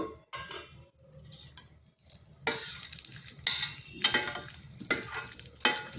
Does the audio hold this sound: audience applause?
no